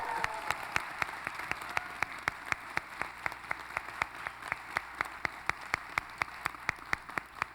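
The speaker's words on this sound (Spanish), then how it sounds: "así que aplausos" Audience applause at a film festival panel in Guadalajara, soft and steady, with crisp regular claps standing out over a diffuse wash of hand noise across the whole stretch.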